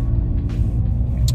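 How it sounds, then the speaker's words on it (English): A Nissan Titan pickup truck drives nearby, its steady low engine rumble and road noise loud and continuous with no voices over it. "That's a Nissan. The Nissan Titan."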